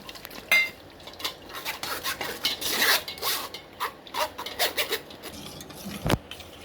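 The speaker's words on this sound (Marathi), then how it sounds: "या पद्धतीनं असं चाळून घ्यायचं." Tamarind water mixed with mint water is strained through a sieve for pani puri, giving quiet intermittent rasping, scraping strokes and clinks, with a sharp knock near the end and no talking.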